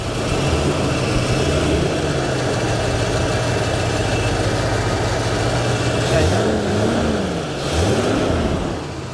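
A 1969 Dodge Polara's 440 V8 idles with a deep, throaty exhaust rumble, then revs briefly a couple of times near the end.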